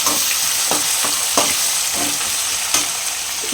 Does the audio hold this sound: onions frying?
yes